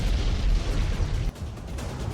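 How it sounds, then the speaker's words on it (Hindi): Loud, dense rumbling booms of Russian artillery shelling over a Ukrainian city roll on continuously, with a brief dip before the heavy roar resumes. "यूक्रेन के 8 शहर इस वक्त रूसी सेना के गोलों से दहल रहे हैं"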